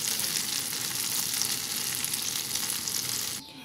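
Tofu skin deep-frying until crispy gives a steady, dense sizzle and crackle of hot oil that runs loud and close without a break, then drops off sharply in the last moment.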